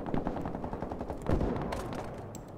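Rapid automatic gunfire from a shooter video game, Ironsights, crackles in short dense bursts, loud and close, with one heavier blast in the middle before the shots thin out.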